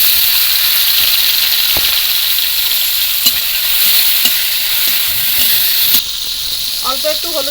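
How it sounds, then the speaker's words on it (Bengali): Shrimp fry in hot oil in a wok, a loud, steady sizzle with occasional stirring clicks, dropping slightly partway through. "মাছগুলো আবার কড়াইতে দিয়ে দিলাম"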